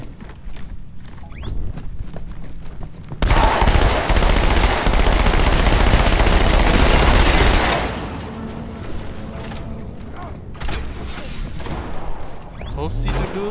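Rapid SMG gunfire in the video game Halo 2 bursts loud and dense for about four seconds amid game sounds, with a player's voice talking before and after.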